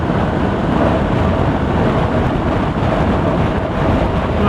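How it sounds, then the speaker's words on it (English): A strong crosswind buffets a rider on a BMW R1200RT motorcycle on an exposed open road, producing a constant loud roar and rumble of wind noise with no speech. "Quite a strong left wind coming from the west now, wanting to push me across to the other side of the road."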